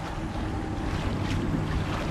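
Boat wake waves washing against a kayak out on open water, a steady rushing slosh with wind buffeting the microphone, continuous and fairly loud with no voices.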